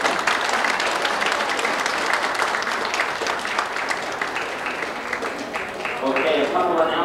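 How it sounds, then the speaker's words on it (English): Audience applause for a singing group at a concert, sustained loud clapping from a crowd that continues steadily throughout, with a host's voice briefly over it. "give a big, more round of applause than that for this group."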